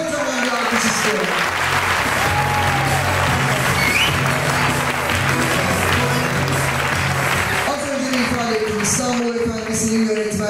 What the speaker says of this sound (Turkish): Ben kocaman bir alkış istiyorum.